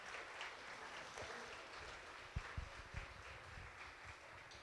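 An audience at a community gala breaks into sustained applause, a soft, even wash of many hands clapping heard from a distance, with a few louder claps standing out near the middle.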